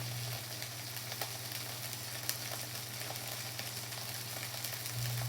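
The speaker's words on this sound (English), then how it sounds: "So we need to fry up some bacon." Bacon sizzling in a frying pan, heard as a continuous quiet crackle scattered with small pops and spits, with a low steady hum underneath and no talking.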